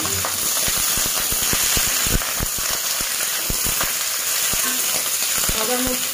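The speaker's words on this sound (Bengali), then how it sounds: "এখানে আমি একটা কড়াইয়ের মধ্যে তেল দিয়ে ফুলকপিগুলো ভালো করে ভেজে নেব।" Cauliflower florets frying in oil in a wok, a continuous crackling sizzle with frequent sharp pops and occasional stirring scrapes, close and fairly loud.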